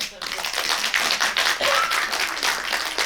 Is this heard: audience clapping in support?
yes